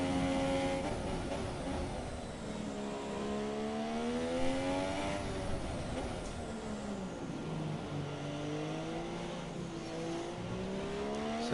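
An F1 race car engine in a racing video game drones steadily as the car warms its tyres on track, its pitch rising and falling with throttle through the whole stretch, close and continuous with no talk.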